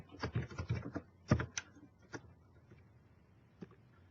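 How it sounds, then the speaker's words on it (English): A person types a friend's name on a computer keyboard into a roommate request search form. Quick clusters of crisp keystrokes come first, then a few scattered taps spaced out toward the end, close and clear with no talking. "this is where you would type it in"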